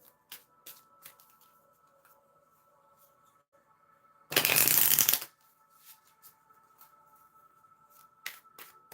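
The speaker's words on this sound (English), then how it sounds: "You heard me shuffle." Tarot cards shuffled in one brisk, close riffle lasting about a second, amid quiet room noise and a few faint taps and clicks before and after.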